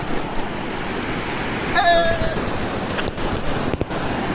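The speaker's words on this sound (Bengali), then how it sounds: "এই যে দেখছেন ঢেউ" Sea waves roll and break on the beach at Bakkhali under steady wind noise, with people talking faintly nearby.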